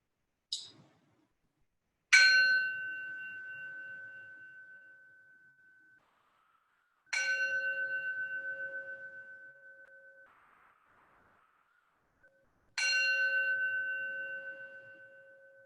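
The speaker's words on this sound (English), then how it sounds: "Let's seal in this feeling with the sound of 3 bells." Three bells ring to close a yoga and qi gong session, each a clear sustained tone several seconds apart, slowly fading in a quiet room, preceded by a faint tap.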